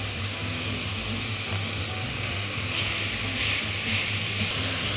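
Ground meat for moussaka with béchamel, added to a hot pan over softened onion, sizzles and hisses with steam in a loud, constant roar, with no talking.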